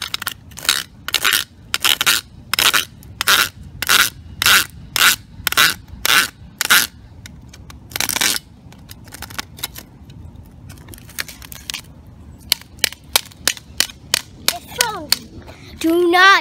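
Repeated sharp cutting and smashing blows against an iPhone 5s, a rapid series of loud cracking impacts in rhythmic bursts, then a pause with scattered scraping clicks and a final quick flurry of hits, close and loud with no talking.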